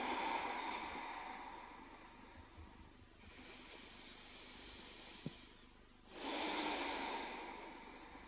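A slow, airy exhale drifts out during a yoga class, a soft hiss that swells, fades and returns, faint and close with quiet room tone between breaths.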